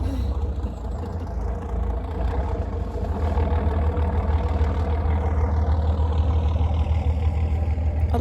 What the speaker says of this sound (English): what are these noisy boats all about?